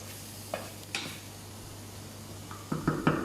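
Thai green curry paste frying and being stirred in hot oil in a pan, with a faint steady sizzle, a few soft spoon scrapes, and a livelier clatter of stirring near the end, close up and quiet, no voices.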